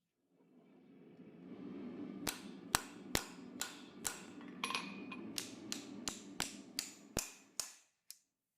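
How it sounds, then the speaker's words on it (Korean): Sharp metal hammer blows drive a habaki onto quarter-inch bar stock for a Damascus dagger, about a dozen crisp ringing strikes at a steady, slightly quickening pace, close and clear over a low background hum. "이 4분의 1인치 바스톡에 하바키를 망치로 두드려 끼우고"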